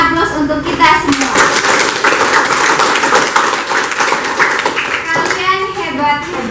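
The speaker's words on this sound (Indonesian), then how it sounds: "Kita berikan aplaus untuk kita semua." A biology class of tenth-grade students claps together in a classroom, with steady, close applause lasting several seconds while children's voices chatter underneath.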